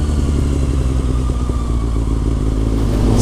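A Kawasaki Ninja 636 fitted with an Akrapovic exhaust cruises along a road, its engine giving a loud, steady mid-pitched drone with a slight pulsing clatter, close to the rider and unbroken.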